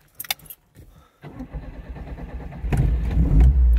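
Fiat 124 car engine starting: brief jingling and clicks, a short pause, then the engine cranks and catches into a rising, rumbling idle that grows louder close by.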